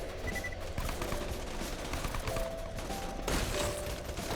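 Weapon fire in Borderlands 2, a dense, fairly quiet barrage of rapid shots and impacts running throughout with game effects layered underneath.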